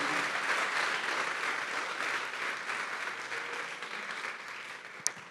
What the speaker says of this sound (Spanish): Dele un fuerte aplauso al Señor por lo que usted acaba de decir